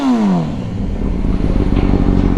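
A 2007 Honda CBR1000RR engine starts with a falling whine, then settles into a loud, close, steady rumbling run with no voices.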